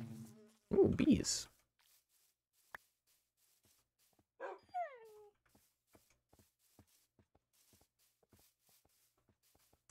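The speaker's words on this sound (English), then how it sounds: "Quit your whining, dogs." Tamed dogs in the game Minecraft, injured after sword hits, give a brief burst of noise followed by a high, sliding whine that falls in pitch, then sparse faint ticks.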